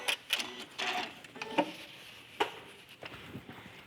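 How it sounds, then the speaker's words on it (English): A sewing machine backstitches to finish a curved quilting seam: short irregular bursts of rapid mechanical stitching, close but fairly quiet, separated by brief pauses. "As I come to the end, I'm going to backstitch and cut my thread."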